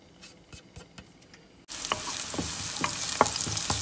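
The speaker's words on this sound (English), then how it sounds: "I'm gonna add in the garlic and onion and saute that for about 1 minute" Garlic and onion hit two tablespoons of hot oil in a pot over high heat and burst into a loud, steady sizzle, stirred with intermittent scraping clicks after a few quiet taps.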